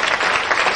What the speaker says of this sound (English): give Pantelli a big round of applause